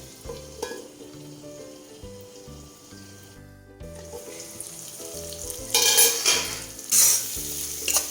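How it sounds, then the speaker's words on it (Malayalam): Chana masala cooking in an iron kadai, with a spoon stirring the thick spiced mix in repeated scrapes and light sizzling, growing louder toward the end. "ഈ മസാല നമുക്ക് ഒന്നും കൂടി യോജിപ്പിച്ച് വേവിച്ച് എടുക്കാം."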